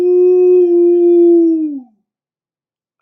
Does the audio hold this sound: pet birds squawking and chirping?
no